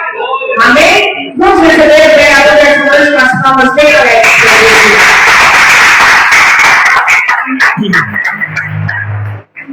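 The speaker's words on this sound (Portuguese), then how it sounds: "Vamos receber o vereador dessa noite com as palmas bem alegres" A church congregation claps to welcome a city councillor at an evening service, a loud burst of applause rising after amplified singing and voices and then fading as a voice returns.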